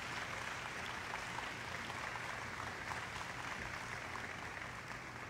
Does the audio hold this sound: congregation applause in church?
yes